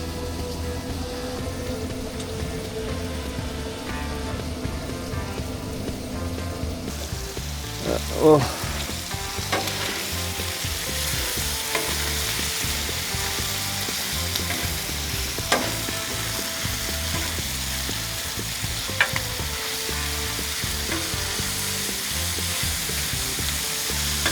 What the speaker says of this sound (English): while we let our onions and bacon cook